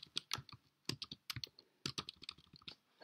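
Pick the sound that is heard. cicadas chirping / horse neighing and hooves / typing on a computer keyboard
typing on a computer keyboard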